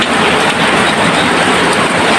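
Heavy rain pours down in a steady, loud broadband roar, continuous and unbroken with no voices, near an outdoor cooking spot.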